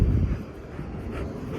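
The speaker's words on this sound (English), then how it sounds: "Excuse the plane coming through." An airplane passes overhead as a loud, broad low rumble through the whole short stretch, strongest at the start, with no talking.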